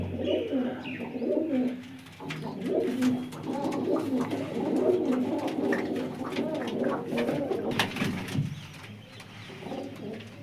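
Pigeons of various breeds coo steadily in a loft, several birds overlapping in soft rolling calls that run throughout with little pause, fairly close.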